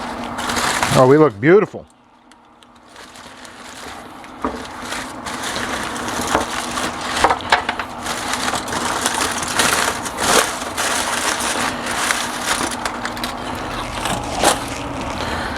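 Crinkling and crackling as smoked ribs are unwrapped from their wrapping, a busy close rustle lasting over ten seconds after a brief spoken remark.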